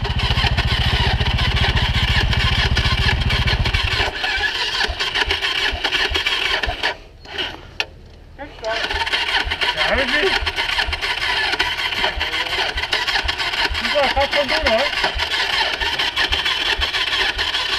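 A Suzuki DRZ supermoto motorcycle engine cranks and runs up close on a road trip, a loud rough drone that cuts out, followed by a brief quiet gap and then a steady idle.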